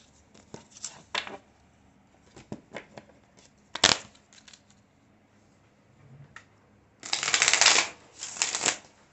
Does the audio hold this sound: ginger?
no